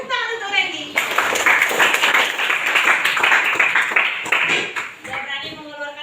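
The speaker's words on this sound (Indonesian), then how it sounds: "Tepuk tangan untuk Randy." Classroom clapping for a student named Randy, a dense burst of many hands that starts abruptly after a teacher's voice, holds steady for about four seconds, then fades as talking resumes.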